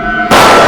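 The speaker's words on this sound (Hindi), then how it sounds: "गोली चलने की आवाज।" A sudden loud gunshot in a TV crime drama erupts after a brief tonal hum, a sharp burst that rings out and sustains at full volume.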